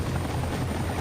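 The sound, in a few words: helicopter in video game Max Payne 3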